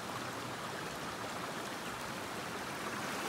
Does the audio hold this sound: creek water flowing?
yes